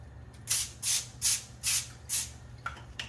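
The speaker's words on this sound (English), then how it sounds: "like to give it a little spray" Five short hissing bursts of cooking spray onto a pan in a steady rhythm, close up, followed by a couple of softer bursts, over a low background hum.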